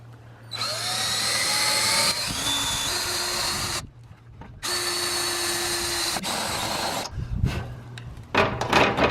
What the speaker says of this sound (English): I have to drill up to 9/16, which is 1 step above 1/2 inch